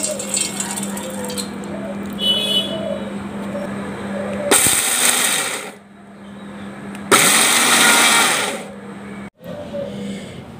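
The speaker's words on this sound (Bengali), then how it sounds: "বাদামগুলো খোসা ছাড়িয়ে নিয়েছি, এখন ব্লেন্ডার করে নিচ্ছি।" An electric blender grinds shelled nuts for a homemade chocolate-nut spread in two loud whirring bursts, separated by a short pause, with quieter kitchen sounds between them.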